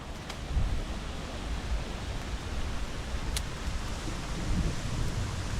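Rain falls steadily outdoors as an even, continuous hiss, close and unbroken throughout, with no talking.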